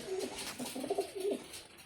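A pigeon coos softly several times in low, throaty rolling notes, close by, with quiet background noise.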